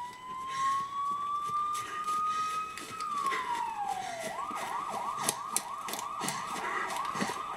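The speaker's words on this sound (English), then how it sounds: "I hear sirens, it's probably not good." In a Minecraft horror map game, a siren holds a steady tone, then bends downward and settles into a rapid warbling wail. It plays fairly quietly and continuously under faint background noise.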